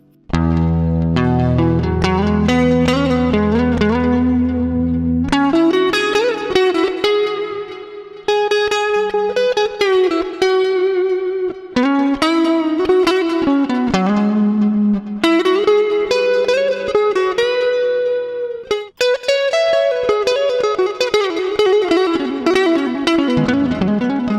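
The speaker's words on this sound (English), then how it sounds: "some modulated reverb to make it more wet" Electric guitar played through a Fender Tone Master Pro with modulated reverb for a wet sound, in a guitar rig: sustained melodic lead lines and bends over a low held chord, loud and continuous with no talking.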